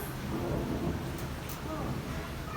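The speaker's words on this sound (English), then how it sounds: "It's raining heavily today" Steady heavy rain pours down with a low rumble of thunder underneath, a continuous dense wash of sound with no clear breaks.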